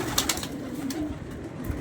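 A loose domestic pigeon coos softly in a few low, repeated notes against steady background noise, with no talk over it.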